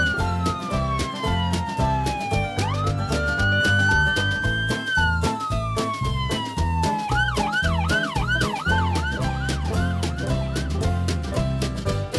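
A police car siren wails and sweeps up and down, then shifts to a fast yelping pattern, playing loudly over a steady rhythmic backing beat.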